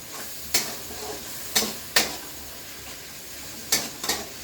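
Masala spice paste frying in oil in a home kitchen, a soft continuous sizzle with several sharp spoon-on-pot scrapes and clinks at irregular intervals, close and moderately quiet.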